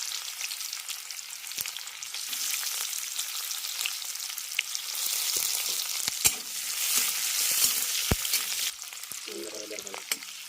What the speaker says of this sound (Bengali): পেঁয়াজটাকে হালকা করে ভেজে নিয়েছি